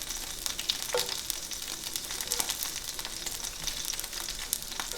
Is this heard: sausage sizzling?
yes